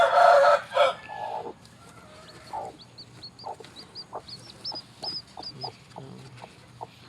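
A brooding hen makes short, soft clucks in a loose series, close by, after a brief louder squawk at the start.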